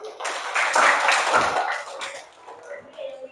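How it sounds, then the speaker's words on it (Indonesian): A classroom of students in an Islamic lesson on sunnah prayers claps hands together in a dense, close burst of about two seconds that then fades away. "Tepuk tangan."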